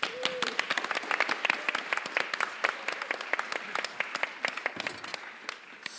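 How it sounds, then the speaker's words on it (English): Audience at a live science show claps with distinct individual hand claps, moderately loud and continuous, as a presenter is welcomed onto the stage. "Please give a round of applause for Dave Ansell"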